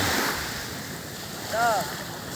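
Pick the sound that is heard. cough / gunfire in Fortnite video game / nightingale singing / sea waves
sea waves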